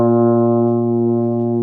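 Euphonium played with the cheeks kept in, one steady, focused low brass tone sustained throughout, clear and fairly loud with no other sounds.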